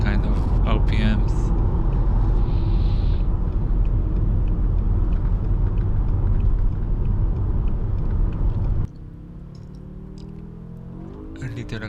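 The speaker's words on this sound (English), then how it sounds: "this is just a video of me driving all kind of speeds," A BMW M5 engine drones and rumbles from inside the car while driving at varying speeds and revs, a loud steady low roar that drops abruptly to a quieter idle-like hum near the end.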